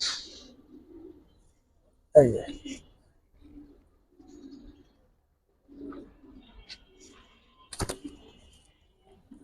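Giribaz pigeons in a loft giving soft, scattered coos close by, interspersed with brief thumps and someone talking in a quiet room.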